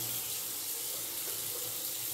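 A tap runs cold water into a bathroom sink before a safety-razor shave, a steady, close, continuous hiss and splash from start to finish.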